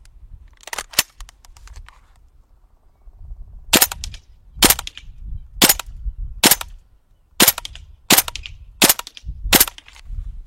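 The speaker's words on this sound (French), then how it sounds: "on va faire le test de tir sur une cible qui est à peu près à 15 mètres en semi et ensuite en auto" WE SCAR-L open bolt gas airsoft rifle firing at a target about 15 metres away: sharp cracks, a quick double shot, then a string of evenly spaced single shots, loud and close with no talking.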